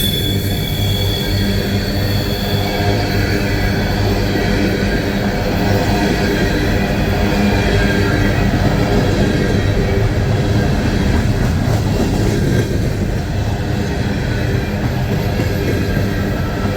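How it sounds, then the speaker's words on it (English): A CSX coal train passes near Sykesville Tunnel at about 20 to 25 miles an hour, a loud, unbroken roar of cars and wheels with faint squeal on curving track, no voices. "Train's going about 20-25 miles an hour."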